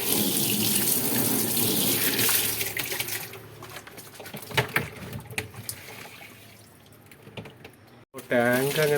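Tap water running steadily to fill a cleaned fish tank, a loud continuous splashing stream that thins out midway, with handling knocks and a voice near the end.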